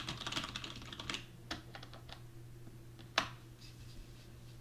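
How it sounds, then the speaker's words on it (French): Typing on a computer keyboard, entering text into Notepad++, with a quick run of clustered keystrokes at the start and then sparser, scattered taps with a louder one near the end, close and fairly quiet over a low steady hum. "Là, je peux taper du texte."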